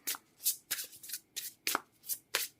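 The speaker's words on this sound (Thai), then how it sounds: "เปิดไพ่ออร์เคิลให้เลยทีเดียว เอาออร์เคิลด้วย" Oracle cards are shuffled by hand in a tarot-style reading, about eight crisp riffling bursts in a quick even rhythm, close and clear with no voices.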